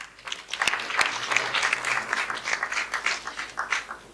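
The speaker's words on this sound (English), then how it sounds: "she deserves a round of applause" Conference audience giving a round of applause at closing remarks, a dense, even wash of many hands clapping for about four seconds, with a few sharper close claps near the start and faint voices beneath.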